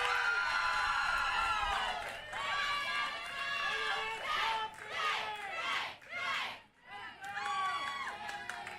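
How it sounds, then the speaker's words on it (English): Excited cheering and shouting from fans and teammates at a college softball game between Florida State and Northern Colorado, high voices and whoops rising in loud bursts with a brief lull near the end. "And listen to the crowd, to the fans, to her teammates."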